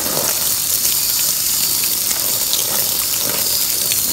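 Water gushing steadily from a hose or can onto container garden soil, a continuous hissing splash that stays even and close throughout.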